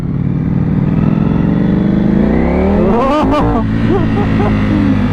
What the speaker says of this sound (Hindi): ये देखिए आप, क्या रिस्पॉन्स है थ्रॉटल का